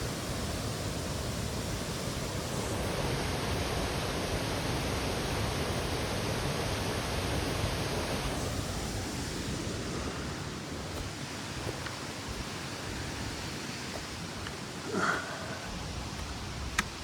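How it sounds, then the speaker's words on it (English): Creek water rushing at a trail crossing in the 100 Mile Wilderness on the Appalachian Trail, a steady broadband roar of flowing water, close and constant for the whole stretch with a faint tone early on. "This is the same creek I just crossed."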